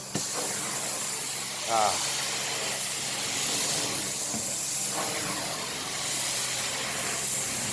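A steady, hissing vacuum roar of a carpet extraction machine cleaning pet-urine-soiled carpet runs throughout, with faint voices murmuring underneath.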